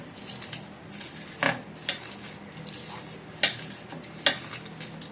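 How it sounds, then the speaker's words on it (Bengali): Fried dried red chili is mashed with salt by hand in a dish, giving a run of soft, irregular clicks and scrapes close by over a faint sizzling background, with no voices. "এই শুকনো লঙ্কাটা যে ভেজেছিলাম সেটা নুন দিয়ে ভালো করে মুচকে নেবো নুনের সাথে"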